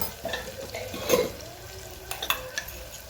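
Spices such as red chilli powder, coriander-cumin powder, turmeric and salt being stirred in a frying pan, a few close scraping strokes and light metallic clinks over a soft background sizzle.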